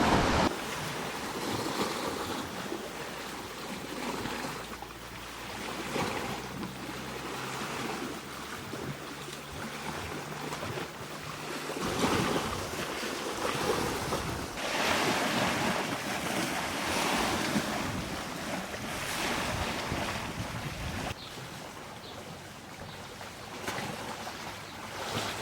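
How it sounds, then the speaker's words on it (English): Ocean waves crash and roll continuously nearby on the New Zealand coast near Auckland, with rushing surf and gusts of wind buffeting the microphone. "It's nice just listening to the waves crashing"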